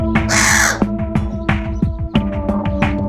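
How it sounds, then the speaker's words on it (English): A channel-billed cuckoo gives loud, harsh, rasping calls in a repeated sequence, heard close up in a veterinary clinic. "Barry from the wildlife rescue group Wires has arrived at the clinic with a channel-billed cuckoo"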